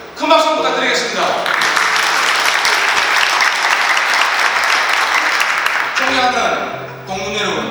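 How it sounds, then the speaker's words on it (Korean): A hall audience at a university alumni New Year gathering applauds the university president, loud sustained clapping from many hands that fades near the end, with a voice speaking before and after. "여러분, 우리 정현태 총장님 여러분 큰 박수 부탁드리겠습니다."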